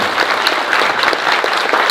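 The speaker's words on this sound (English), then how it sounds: "yes, round of applause, please." Brisk applause from a studio audience on a horror-themed talk show, close and loud with individual hand claps distinct within a steady, dense patter lasting a couple of seconds.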